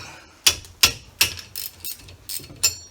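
A socket wrench with a deep socket ratchets on a replacement wheel stud, giving about seven sharp, evenly spaced clicking bursts, close and distinct with no talking.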